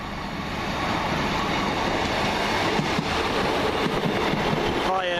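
A passenger train bound from Worcester Shrub Hill to Weymouth rolls steadily past, a loud continuous rumble of wheels and carriages with faint rhythmic clatter and a brief squeal near the end.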